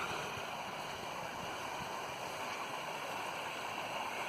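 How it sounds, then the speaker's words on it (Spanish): Small creek on a hillside path near Ushuaia, a steady broadband water rush that stays even and close throughout with no talk over it. "Otro arroyolito."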